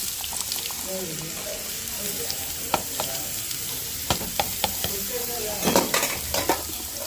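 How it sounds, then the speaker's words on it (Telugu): Beetroot pieces stir-fried in a pan: a low steady sizzle runs throughout, broken by scattered sharp scrapes and clinks of a spatula against the pan, louder clusters near the end, no talk. "అలానే బీట్రూట్ ముక్కలు కూడా వేసేసుకున్నాను"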